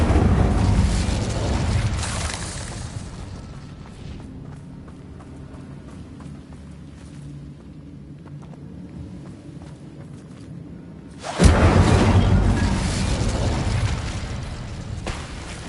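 Incendio fire spells burst in Hogwarts Legacy: a loud roaring blast at the start fades into a long low rumble, then a second sudden fiery explosion erupts near the end, broad and close.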